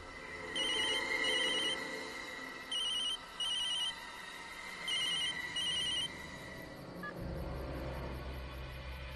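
Telephone rings in repeated electronic double-trill bursts, four rings spaced evenly and heard fairly close, then stops as a low rumble rises at the end.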